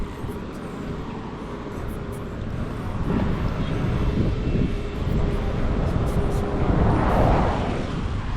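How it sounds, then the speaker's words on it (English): A plane near the airport in Montego Bay, heard as a steady broadband roar that gradually swells, loudest toward the end, under wind-like outdoor noise with no talking. "I'm pretty sure I'm hearing plane"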